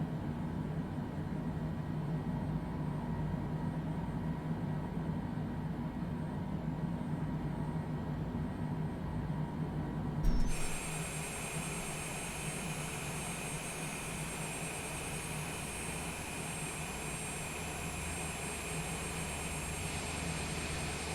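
The right engine of a simulated aircraft in a flight simulator game spools up; a steady low hum jumps to a louder, higher whine after a sharp click midway and then holds steady.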